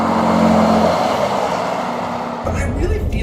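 A 2017 Ford F-150 Raptor pickup truck engine roars under acceleration, pitch climbing, then shifts and rises again, loud and close with road noise throughout.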